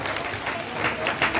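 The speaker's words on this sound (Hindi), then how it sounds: "एक बार आओ ताली बजा के धन्यवाद दीजिए।" A church congregation at a Christian pilgrimage gathering claps together, a steady wash of applause throughout with brief surges, fairly close and moderately loud.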